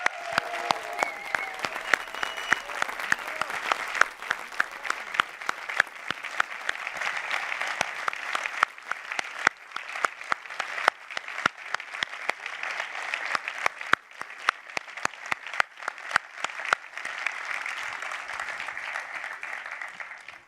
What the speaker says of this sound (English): I suggest we all give them a warm round of applause because they deserve it